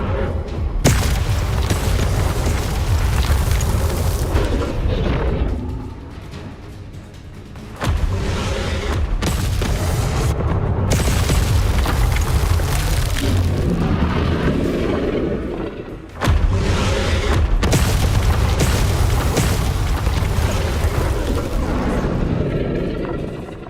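Fire blazing inside a dungeon in Hogwarts Legacy, heard as loud, continuous low roaring with booming surges and thuds that drop briefly and return, filling the space throughout.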